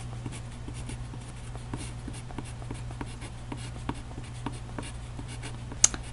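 A pen writes an equation by hand on paper, a faint scratching with quick repeated strokes and small taps at a close distance, with no voices.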